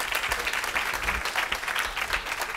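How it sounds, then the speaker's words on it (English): Faint, scattered applause from a London audience after a talk on single life. Individual claps are distinct and loosely rhythmic, heard at a distance for a couple of seconds. "You don't have to clap."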